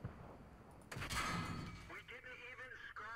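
A tank cannon fires in World of Tanks with one loud, heavy blast followed by a rumbling tail, and a voice speaks afterward.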